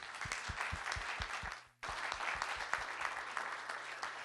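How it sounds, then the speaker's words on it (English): Applause at a city council swearing-in ceremony, a crowd clapping steadily and loudly, with a brief dip partway through before the clapping resumes. "Congratulations, a big round of applause."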